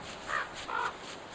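Two distinct caws from a bird in the survival game Don't Starve Together, rising over a steady ambient game backdrop with no talking.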